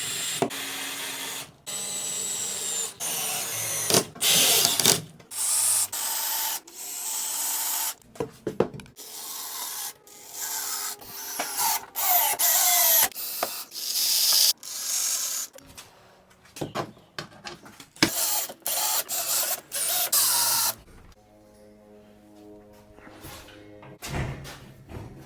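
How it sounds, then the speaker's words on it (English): A power drill bores holes in a one-car garage in repeated loud bursts of whirring and grinding separated by brief silences, close up, with a sustained whine near the end. "let's go ahead and drill these holes"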